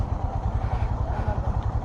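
A Royal Enfield Himalayan motorcycle idles nearby in the shade of a tree, its single engine putting out a steady low, even thump throughout, with no talk over it.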